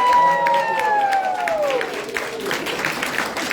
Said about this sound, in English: Can I have you raise your hand and we have a round of applause